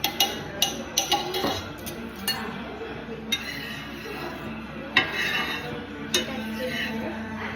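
A utensil beats egg batter in a bowl for a Tamil street-style omelette, giving a string of uneven metallic clinks and taps, some close and sharp, over a low kitchen background.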